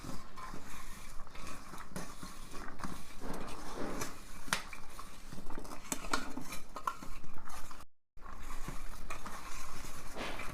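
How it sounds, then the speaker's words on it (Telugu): Rice being mixed with onion chutney in a bowl brings repeated clinks and scrapes of metal against the dish, with irregular wet squelching in between and a brief gap near the end. "ఇవి అన్నం కొంచెం ఉంది, అన్నం కలుపుతున్నా చూడండి"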